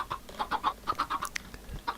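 Blocky Minecraft chickens cluck over and over in a steady run of short, close, moderately loud calls, with no talking over them.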